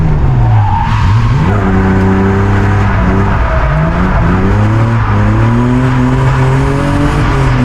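Drift Cup race cars sliding around a circuit, loud and continuous, with engines revving in rising and falling tones over sustained tire squeal, no voices.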